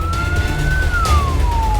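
A fire truck siren wails as firefighting vehicles head to a forest fire in Kotawaringin Timur, Indonesia, one long rising and falling tone over a heavy low engine and road rumble, loud and close.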